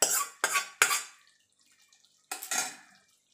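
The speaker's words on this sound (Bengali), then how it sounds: "এবার যে ফোড়নটা আমি এবার আলুর দমের মধ্যে ঢেলে দেবো।" Hot hing tempering is poured into a pot of aloo dum, giving three quick, loud sizzling splashes close by, a short quiet pause, then two more bursts that fade.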